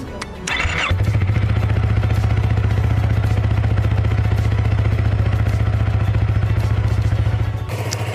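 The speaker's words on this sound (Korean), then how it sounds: "시동 한번 걸어보죠" A Yamaha R3 motorcycle with frame sliders and otherwise stock parts starts with a brief cranking clatter, then settles into a loud, steady, close idle that runs throughout before dropping away at the end.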